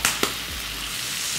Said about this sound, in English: Let's hear that sizzle.